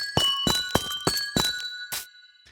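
Minecraft amethyst blocks ring out six bright, bell-like chime tones at a steady pace, each struck cleanly with a short shimmering decay, like wind chimes, with no talking.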